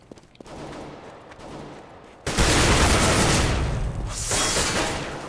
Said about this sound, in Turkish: Adama tuttum vurdum ölmedi.